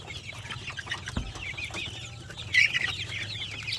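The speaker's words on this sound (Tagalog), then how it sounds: "Madaling maubos yan dahil uhaw na uhaw yung mga sisiw natin." Thirsty chicks crowd together in a brooder, giving steady high peeping and cheeping throughout, with a louder burst of calls near the end and faint low rumble underneath.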